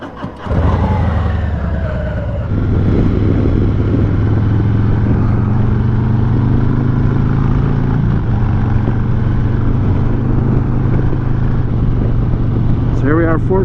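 A Harley-Davidson Heritage motorcycle rumbles loudly and steadily at close range while being ridden, its deep engine drone holding even with slight pitch shifts, and a voice talks briefly over it near the start.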